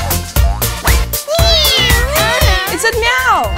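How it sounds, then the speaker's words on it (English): A cat meows repeatedly in rising, drawn-out cries, close and fairly loud, with a person talking underneath. "It said meow."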